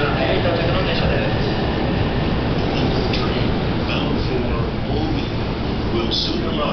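A train rumbles steadily into a Japanese station, a constant low roar of wheels and motors with a faint Japanese announcement and other voices mixed in.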